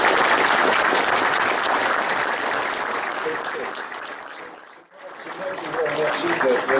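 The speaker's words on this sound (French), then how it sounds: "on peut l'applaudir" Audience applauding a speaker after a testimony, a loud sustained wash of clapping that dips briefly, then returns as a voice begins talking over it.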